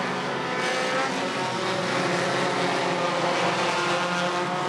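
Race cars run an enduro race at Irwindale Speedway, a Daytona-style tri-oval, with a loud, continuous roar of several engines at high revs close by and no pauses throughout.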